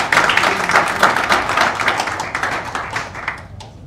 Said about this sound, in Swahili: Makofi tena wakati wanakwenda kukaa.